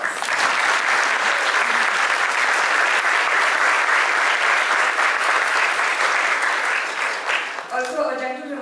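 A large audience breaks into sustained, dense applause welcoming a speaker to a sustainable-living and community-building session, a steady wash of clapping that tapers off near the end as a voice begins.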